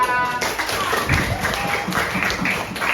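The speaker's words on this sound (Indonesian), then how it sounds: "Tepuk tangan semua." Schoolchildren at an elementary school health session on toothbrushing and waste sorting clap together, a dense burst of clapping lasting a few seconds with voices mixed in.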